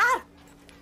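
A dog gives one short, high whimper that fades quickly into near silence.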